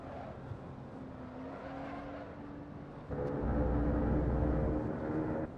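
A Lotus Evora S, Stage 2 tuned, driven in Assetto Corsa on a track day, its engine droning steadily and then surging louder and fuller partway through as it accelerates, with no talk over it.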